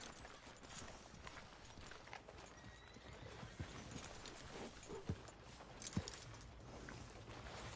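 Horse hooves clip-clop at a walking pace in the Red Dead video game, quiet rhythmic footfalls on a dirt trail with a few sharper hoof strikes over faint outdoor ambience.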